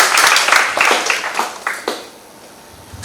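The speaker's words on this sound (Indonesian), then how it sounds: "Tepuk tangan semuanya" Applause from a seated audience at an election-literacy training session, a short burst of clapping fading out after about two seconds into near silence.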